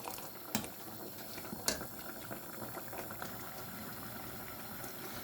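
Plum chutney simmers in a pot with a soft, steady bubbling and faint popping, low and close, broken by a couple of brief clicks.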